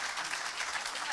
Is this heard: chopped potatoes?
no